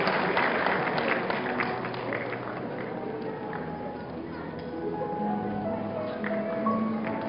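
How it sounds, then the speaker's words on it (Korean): Audience at a university graduation ceremony applauds steadily for an award recipient, moderate and continuous clapping with a faint voice and music underneath. "큰 박수로 축하드립니다."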